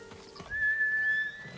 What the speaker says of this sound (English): Horse! There we go.